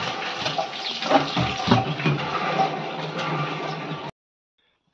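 Water gushes out steadily while a new village playing field is being watered in rural Konkan, a fairly loud continuous rushing pour that stops abruptly near the end.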